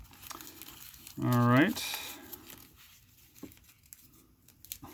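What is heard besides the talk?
crinkling plastic bag being pulled out of a taped mail package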